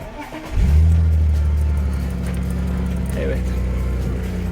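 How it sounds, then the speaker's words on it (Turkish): Car engine started with a keyless push-button start while the brake is held: a brief starter crank, then the motor catching and settling into a steady close idle. "aracı çalıştıracağım"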